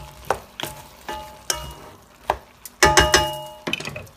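Onions cook in a pan for a couscous confit, giving a soft sizzle broken by several sharp clinks and scrapes of a utensil against the pan, close and fairly loud.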